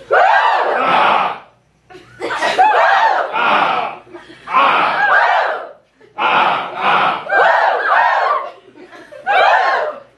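A comedy improv show audience shouts a loud, unified 'ah' on cue, about six or seven short bursts separated by brief silences, with some laughter mixed in.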